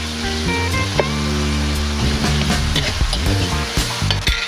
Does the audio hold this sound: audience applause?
no